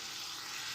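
Tomato sauce ingredients seasoned with salt and black pepper fry in a pan, giving a steady, soft hissing sizzle with no voices over it.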